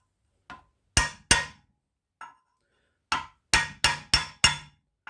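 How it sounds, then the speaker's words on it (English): A brass drift hammered against a bearing during a PTO drive repair, about nine sharp metallic strikes in irregular groups, some faint and most ringing clearly in a quiet space. "And bearing started, so take our brass drift."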